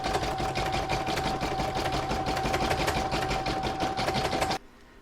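Embroidery machine stitching orange thread for a snowman's nose on a coaster design, a fast, even mechanical tapping with a steady whine that stops abruptly near the end.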